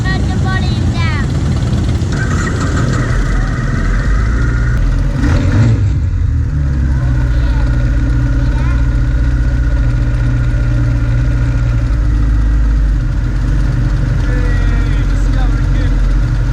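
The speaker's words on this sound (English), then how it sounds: "It's gonna get loud with some engines" Motorcycle engines idle and rev at a 2023 group ride event, a loud continuous rumble with rising throttle blips, while people talk faintly nearby.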